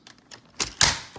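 Document scanner tops pulled down and closed, a couple of faint clicks followed by two sharp plastic snaps close by, with no talking.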